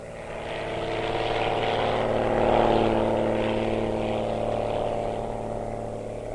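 A propeller airplane drones steadily as it takes off and climbs, the engine's hum swelling to a peak midway and then easing slightly, a continuous mid-distance roar with no voices.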